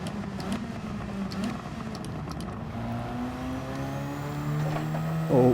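A race car engine in Gran Turismo 7 pulls hard in fourth gear with the throttle planted, a loud, steady rising drone that climbs in pitch as it accelerates, with no talking over it.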